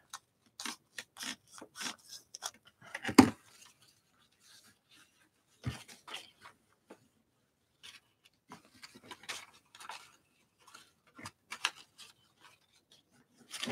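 Paper trimmed for an art journal, heard as scattered short snips and rustling scrapes close by, sparse with quiet gaps between bursts.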